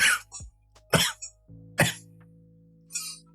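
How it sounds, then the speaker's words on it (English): Several sharp coughs, close and loud, spaced about a second apart, with a sustained musical tone running beneath and a brief high chime near the end. "I'm the one that coughs."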